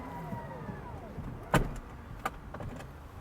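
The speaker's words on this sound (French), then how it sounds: "Mais donc là, je peux choisir de fermer la porte passager." Passenger door of a Tesla Model X Plaid closing automatically, a soft motor whir under low room noise ending in a firm thud near the middle, followed by a smaller latch click.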